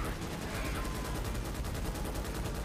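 Rapid gunfire in Starship Troopers: Extermination on hard mode, a dense, continuous burst of automatic shots rattling loudly through the whole stretch with no pauses.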